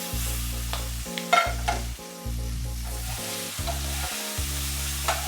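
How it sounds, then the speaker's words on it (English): Vegan taco filling sautéing in a hot pan, a steady close sizzle with occasional stirring scrapes, beneath a continuous, looping musical backing. "All you gotta do is saute this up real quick"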